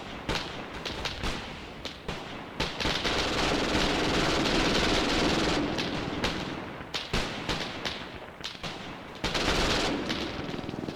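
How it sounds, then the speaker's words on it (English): Bursts of MG42 machine gun fire in a 1943 Eastern Front battle video game at Kalinkova, rapid rattling volleys broken by short pauses and scattered single shots, loud and close, with no talk. "Love hearing those MG42s."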